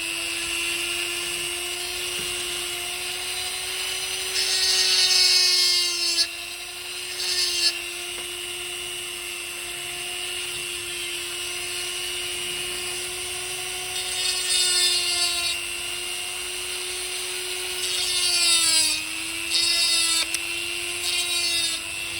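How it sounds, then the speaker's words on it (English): A small high-speed rotary tool whines steadily at close range while sanding a notch into a plastic G.I. Joe flak cannon toy part, its pitch dipping and rising with intermittent harsher grinding bursts as it bites the material. "Probably need to do a little bit of a notch in there, so sand that part off."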